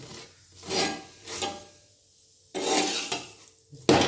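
A paratha stuffed with sattu frying in butter in a pan, heard as intermittent scraping and rubbing strokes of a spatula over a light sizzle, several separated bursts with quieter gaps between, close by, no talking.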